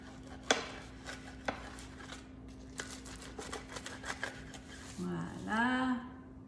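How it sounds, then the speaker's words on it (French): A hot brunch dish is cut through the middle with a utensil scraping and tapping against the dish, giving a few sharp clicks and rasps, followed by a short burst of speech. "je vais couper ça dans le milieu pour vous montrer ce que ça a de l'air"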